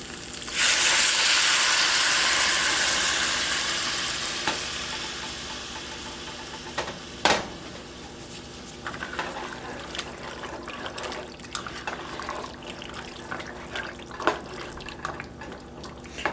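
Hot water poured from a container into a cooking pot while making pasta: a loud, steady splashing pour for the first few seconds that gradually fades, followed by scattered drips and small clinks, with no talking.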